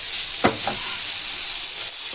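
Food fries in a covered pan with a steady soft sizzle and hiss throughout, a couple of brief clinks or stirs near the start, moderately close.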